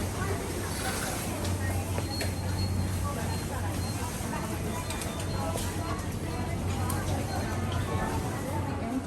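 Busy Tokyo subway station ambience with a low rumbling hum, crowd chatter and footsteps echoing throughout, steady and fairly loud.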